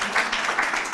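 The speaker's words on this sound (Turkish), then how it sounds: "Bir alkıştan Nazlıcan içimizde." A seated audience at a community project event applauds as a young woman is invited up: continuous, fairly even clapping at moderate volume, fairly close, with no voices on top.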